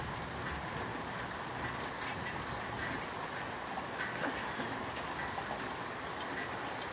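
Steady rain pours down during a thunderstorm in Boquete, a dense, continuous hiss close by that stays level throughout with no talk.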